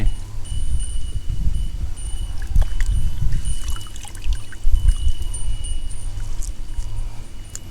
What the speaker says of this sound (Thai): คั้น คั้นคันเอาน้ำออกให้เยอะที่สุดเลยครับ